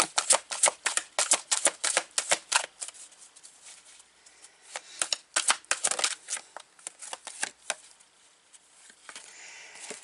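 Shiny tarot cards being shuffled, a run of crisp, rapid riffling flicks in quick bursts with short pauses between, close and fairly loud with no talking.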